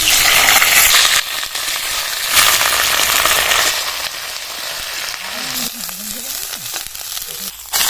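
Cauliflower florets hitting hot mustard oil with cumin, panch phoron and dried red chillies, a loud steady sizzle and crackle that eases slightly as it settles, with a few stirring scrapes near the end.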